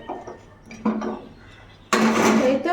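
Curry in a cooking pot on a gas stove, a Bengali vegetable dish of fish roe, pumpkin, potato and pointed gourd, being stirred with a few soft scraping clinks, then a louder, busier burst of scraping and clattering at the end.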